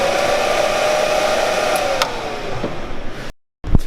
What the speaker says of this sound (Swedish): Fläkt.